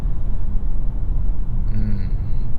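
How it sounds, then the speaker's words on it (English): Steady low road rumble from tires with a soft wash of wind noise inside a moving 2024 BMW i5, continuous and fairly loud, no talking. "just the slightest wind noise. A little bit of a rumble coming from the wheels"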